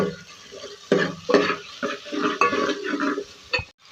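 Tomatoes being stirred into onion-garlic masala frying in a pan for chana dal, with a spoon scraping and clinking against the pot in short bursts over a soft sizzle.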